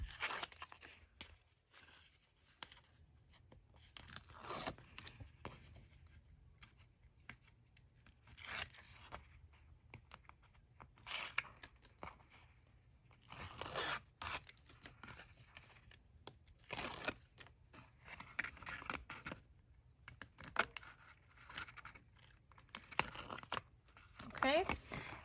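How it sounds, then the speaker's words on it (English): Tape peeled back from a handmade spring floral scrapbook mini album, a run of soft crinkling and tearing bursts close up, irregular and quiet, with talking over parts of it. "I'm gonna peel back all of this tape"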